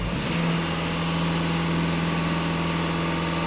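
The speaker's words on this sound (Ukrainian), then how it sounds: "на обертах даю газ в пол і бачимо" A VW Golf 2.0 TDI EA288 diesel engine runs steadily at raised revs under heavy throttle, a sustained loud drone with a strong low hum and no talk.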